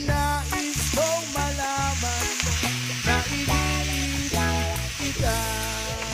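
Onion and tomato frying in a pan, a constant close sizzle with light stirring, heard beneath steady background music with no voices.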